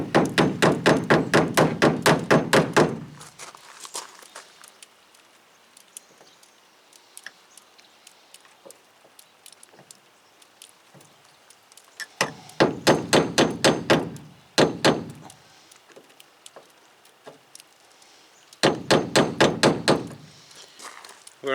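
Sharp metallic hammer blows on a punch against rivets in an aluminum boat transom, delivered in fast rapid bursts of many strikes separated by quieter pauses, loud and close.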